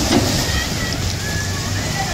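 A 29-inch geared bicycle rides through rain-flooded streets in Padmawati Nagar, Hyderabad, with continuous close sloshing and splashing of water, mixed with rushing wind noise on the microphone throughout.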